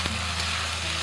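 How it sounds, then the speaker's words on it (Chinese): Chopped aromatics and fermented black beans sizzling in hot oil in a pan after pan-frying chicken, a steady loud close hiss that runs unbroken throughout. "这个时候我们再把这些料头跟豆豉放上去爆香。"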